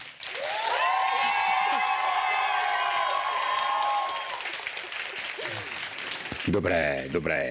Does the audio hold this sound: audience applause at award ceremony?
yes